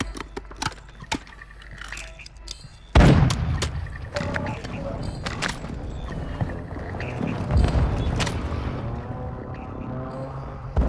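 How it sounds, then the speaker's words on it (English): Video game airstrike explosions: a heavy booming blast hits after a few seconds, followed by a dense rumbling stretch of further impacts and crackling debris, with game sounds and scattered effects throughout. "Friendly airstrike on the way."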